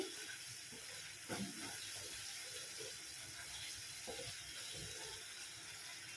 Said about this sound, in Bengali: তারপরে আমি গরম জল দিয়ে দিচ্ছি জলটা একটু বেশিই দেবো